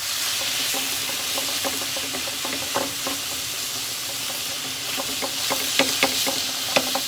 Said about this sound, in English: I'm going to add about 3 tablespoons of oil. I'm going to add my ground beef.